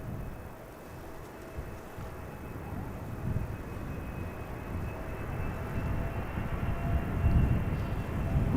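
A Finnair Airbus A330 bound for Helsinki passing overhead near Amsterdam Schiphol Airport, a broad low jet rumble that swells gradually and stays steady and moderately distant, with no voices.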